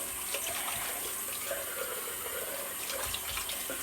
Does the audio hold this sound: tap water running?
yes